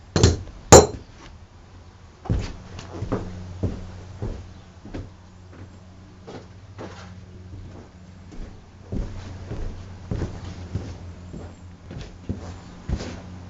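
Metal tools clink and knock against a bus generator while its pulley nut and washers are removed with a socket wrench: scattered sharp, close taps and clanks spread irregularly over several seconds, with two louder hits at the start.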